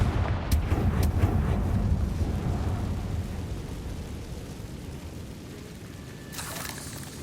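A Confringo fire spell in Hogwarts Legacy bursts with a loud booming explosion, its heavy rumble fading slowly over several seconds, a brief crackle at the end.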